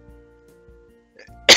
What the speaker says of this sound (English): I have a really bad cough right now.